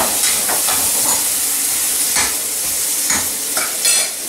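Apple pieces cooking with butter and sugar in a pan give a loud, continuous sizzle, broken by repeated scraping strokes of a stirring utensil close by.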